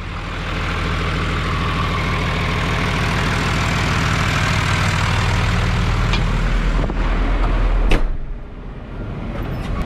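A heavy tractor engine runs steadily with a low, throbbing rumble close by, shifting briefly near the end before continuing.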